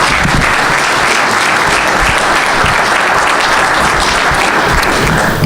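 An audience at a convention keynote address applauds in a loud, dense, continuous wash of clapping that holds evenly from start to finish.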